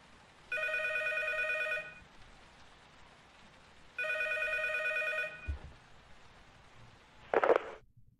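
A telephone rings twice in long, evenly spaced electronic bursts over a hissy, rain-like background, followed by a short clattering handling sound.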